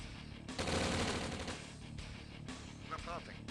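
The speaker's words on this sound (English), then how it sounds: "Strafing run." Aircraft strafing run in Command & Conquer Red Alert, a loud burst of rapid machine-gun fire lasting about a second, followed by lingering battle noise and scattered game sounds under faint voice effects.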